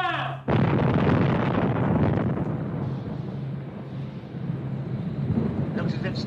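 Anti-aircraft rocket projector firing in a 1943 wartime film: a sudden loud blast after a brief pause, then a sustained roaring, rumbling rush that slowly fades, with a faint voice at the start.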